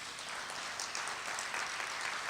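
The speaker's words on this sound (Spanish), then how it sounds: "pedimos un fuerte aplauso" Audience applause at a foundation anniversary event on inflation targeting, a dense, steady clapping that holds evenly for a couple of seconds from a moderate distance.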